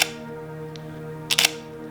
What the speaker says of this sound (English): the shutter just sounds awesome.